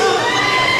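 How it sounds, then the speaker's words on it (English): A graduation crowd shouts and cheers loudly in a brief, dense burst of mixed voices. "Now we're hearing some booing, but I think it's boos of affection."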